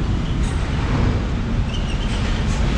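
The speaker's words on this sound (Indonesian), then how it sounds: "Sebentar lagi sepertinya ada kereta kontainer mau masuk ke Pasoso teman-teman." A container freight train pulls into a station, a loud continuous low rumble and roar of rolling wagons heard close by, with no speech.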